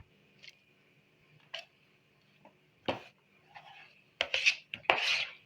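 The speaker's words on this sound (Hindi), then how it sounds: "बंद गोभी काटते हैं" A knife strikes a board in scattered chops, then faster and louder toward the end, as cabbage is cut up for an Italian salad. Close and crisp with a faint background hum and no talk.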